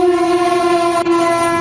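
Train horn sounding a steady, loud chord of sustained tones, held without break for over a second and a half, alone with no talk.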